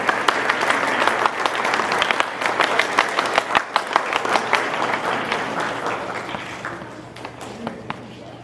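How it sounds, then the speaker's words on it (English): Crowd applause at a high school senior night after a list of names is read out, sustained clapping that thins toward the end, leaving scattered individual claps. "Now you may applaud."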